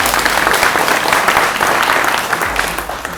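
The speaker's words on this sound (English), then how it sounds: "you can give a round of applause" An audience applauds at a leadership institute celebration night, a dense, steady wash of many hands clapping that holds fairly loud for about three seconds with no talk over it.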